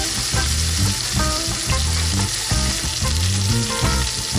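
Steak sizzles loudly and steadily in a hot pan on a stovetop, a constant bright crackle of frying fat with no voices over it.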